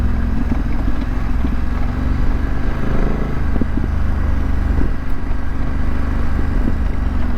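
BMW F900GS motorcycle riding off pavement on a dirt truck trail, engine droning steadily and loudly throughout with rattling and clatter from the rough ground, no talk.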